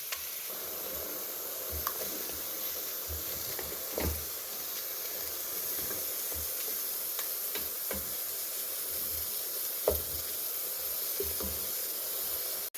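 Onions fry in a pan with a soft, continuous sizzle and hiss, broken by faint scattered pops and the occasional scrape or stir, all at low volume with no talking.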